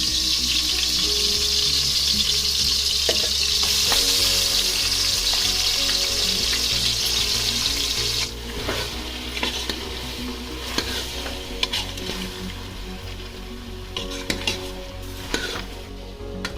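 Goat head curry with small tomatoes fries in oil: a loud, dense sizzle dominates at first, then drops back as a ladle stirs and scrapes the pan with intermittent clatters, close by and without speech.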